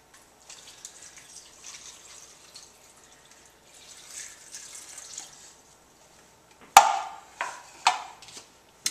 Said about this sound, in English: And then a cup and a half of water.